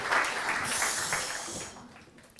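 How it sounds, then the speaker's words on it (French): Audience applause at an evening presentation event as a speaker comes on stage, a brief burst of clapping from a modest crowd that fades out after about two seconds. "On peut l'applaudir."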